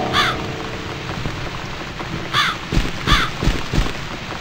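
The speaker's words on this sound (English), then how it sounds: "It's this damn bird again." Crow calls in The Cat Lady video game, a few harsh caws spaced apart over steady rain falling on a balcony, fairly close and clear against the wet background.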